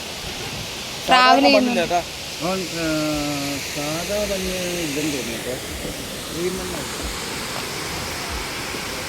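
Valara waterfall rushes as a steady, broad roar in the background while a person talks over it nearby.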